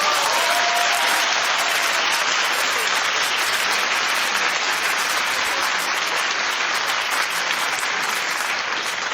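A television talk show studio audience applauds loudly and without a break, a thick, even wash of clapping that holds steady from start to finish.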